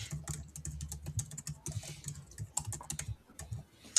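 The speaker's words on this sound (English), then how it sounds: "What are you typing, Sam?" Typing on a computer keyboard: quick, uneven bursts of clicking keys, close and fairly quiet, with a low rumble underneath and no talking.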